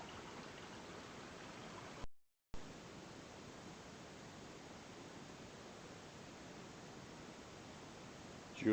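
Creek water trickling steadily over rocks at Cathedral Creek near Mount Irvine in the Blue Mountains, a close, even broadband wash with a brief dropout partway through.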